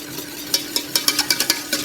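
A sugar-pectin mixture being stirred into cherry purée warmed to 40 degrees, a utensil scraping and tapping against the pan in quick, irregular strokes, close and clear with no talking.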